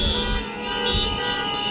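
Car alarms sound at a city intersection where U.S. Border Patrol is present, a steady electronic alarm tone with pulsing, overlapping wails filling the whole stretch at moderate loudness, with no talk.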